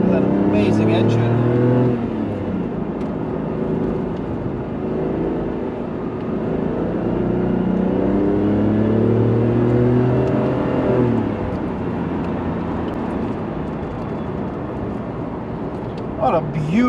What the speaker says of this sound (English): What a beautiful engine this thing has.